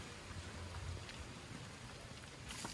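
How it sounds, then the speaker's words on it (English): Light rain falls outdoors as a faint, steady patter and hiss, a soft continuous wash of drops with no voices over the short stretch. "now it's raining a little bit"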